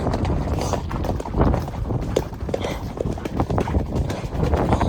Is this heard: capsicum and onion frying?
no